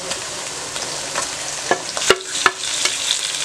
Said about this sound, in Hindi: अब इसमें चिकन डालूंगी।